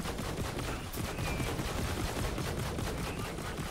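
Gunfire in Borderlands 3, a rapid continuous stream of shots with steady rhythm, close and loud, holding for the whole stretch without pause.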